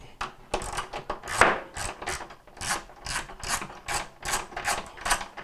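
Ratcheting wrench loosening a bolt on the inner tub of a Whirlpool washer being repaired for leaking and a loud spin cycle, a quick run of close, rhythmic clicks with brief pauses, no voices.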